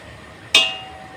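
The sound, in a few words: lid of a cooking pot being opened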